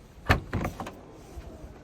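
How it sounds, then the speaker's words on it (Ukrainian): Hands-free kick-opening of a 2017 Ford Edge Titanium 2.0 EcoBoost door: a sharp mechanical clunk, then a short whirring motor and a couple of softer latch knocks, close by with no talk. "а в комбайні двері відкриваються як? З ноги."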